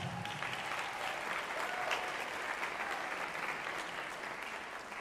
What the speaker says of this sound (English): Can we give Rob another loving applause?